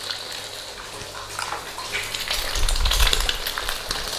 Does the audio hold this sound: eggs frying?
yes